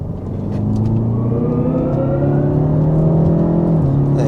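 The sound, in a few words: hybrid car engine noise while downshifting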